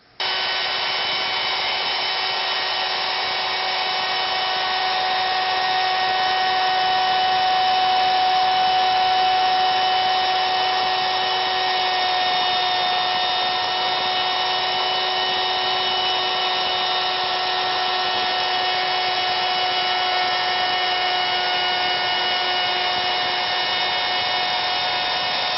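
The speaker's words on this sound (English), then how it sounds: "it's time to run the router across there and make your seam" A router trims a seam in a laminate countertop, making a steady high-pitched whine that stays constant throughout and is close and loud, with no talking.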